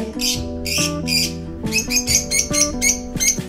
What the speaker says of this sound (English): bird that are always chirping away